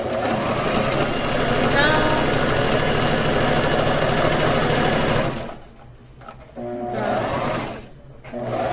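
A sewing machine runs steadily for about five seconds, stitching elastic cord onto a surgical mask, then stops and gives a couple of short whirring bursts, up close.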